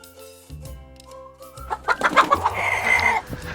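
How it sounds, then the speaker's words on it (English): A chicken clucks in a run of short, bright calls over a steady bed of music, the calls growing louder and denser in the second half. "I'm a chicken."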